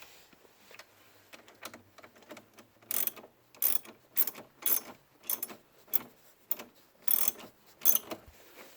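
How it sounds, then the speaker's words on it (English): A ratchet wrench loosening the battery terminal bolt on a 2013 Audi A4, about ten sharp bursts of clicking, closely miked and spaced roughly half a second apart after a few quieter clicks at the start. "We're just going to loosen it and get this bolt off."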